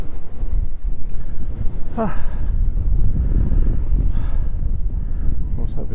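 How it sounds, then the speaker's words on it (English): Wind buffets the microphone on a brisk, exposed Dartmoor tor near Haytor, a constant loud rumbling roar with gusty swells, while a person speaks briefly partway through. "It's a bit brisk and windy up here"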